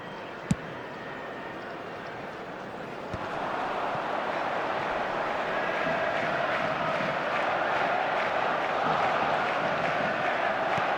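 Stadium crowd in the eFootball 2026 video game swelling into a broad, sustained roar of applause and cheering after a brief quieter stretch, with game commentary faintly underneath.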